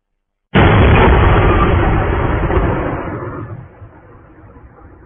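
A single loud explosion at night in Belgorod, a sudden heavy blast followed by a long rumbling decay lasting several seconds, with no voices.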